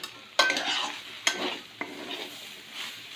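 Food is tossed into a hot pan and stirred, giving a few sharp scraping bursts of sizzle followed by a softer continuous frying hiss, close by with no talk.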